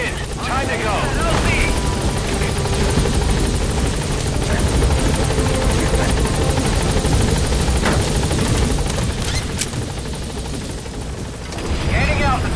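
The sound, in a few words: B-Quad helicopter arriving at landing zone, from video game Metal Gear Solid V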